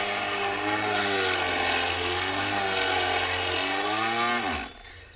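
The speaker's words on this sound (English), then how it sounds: "This is a great little finishing sander." A small electric finishing sander runs loud and close, whirring with a steady buzzing tone that shifts slightly in pitch before winding down at the end.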